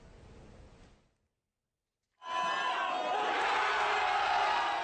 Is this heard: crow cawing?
no